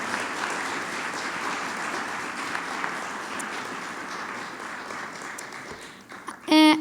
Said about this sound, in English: let's have another round of applause for Doug Griffiths